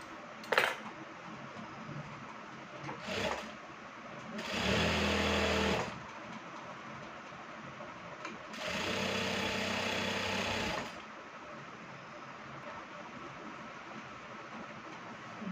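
A tailor's sewing machine runs in two sustained bursts of stitching, each lasting a couple of seconds, with a few sharp clicks and knocks between them against a quiet room.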